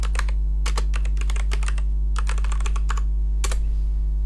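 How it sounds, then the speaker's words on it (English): Rapid bursts of close, crisp key clicks from a computer keyboard as a command is typed into a terminal while setting up a Hadoop MapReduce demo on AWS, with short pauses between bursts over a steady low hum and no talking. "I want you to type sudo,"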